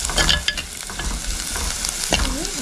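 Turmeric powder is stirred into a frying mixture in a pan: a brief, steady sizzle with scraping stir strokes over it, and nobody speaks.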